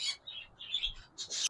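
Parblue pale fallow pet birds from a breeder pair give a few short, high chirps in quick bursts with small pauses between them. The calls are faint and close, with no talking.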